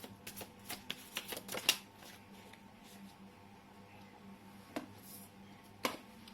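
Tarot cards being shuffled by hand: quiet, quick papery riffles and clicks bunched into a busy run near the start, then a few isolated soft snaps later, close up in a hushed room.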